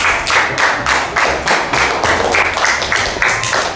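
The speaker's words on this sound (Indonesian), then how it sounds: "tepuk tangan untuk kelompok 1." A classroom group claps together in a steady rhythmic beat, close and fairly loud, continuing throughout.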